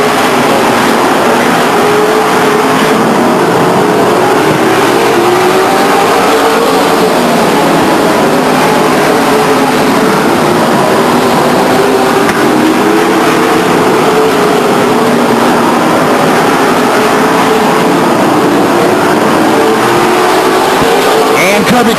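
Race cars circling the track at Stockton 99 Speedway during a 1999 race, a distant continuous engine drone rising and falling as cars pass, with a public-address announcer talking over it.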